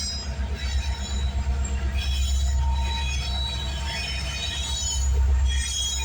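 A CN freight train with locomotives rolls past on the York Sub, a continuous low rumble of wheels on rail with faint squeals and metallic clinks, steady and fairly close.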